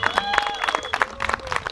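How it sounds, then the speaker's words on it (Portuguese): Audience applause for a poet at a literary gathering in Chapada dos Veadeiros, scattered close hand claps in an uneven rhythm over a short stretch, with voices audible underneath. "Mais palmas para ela"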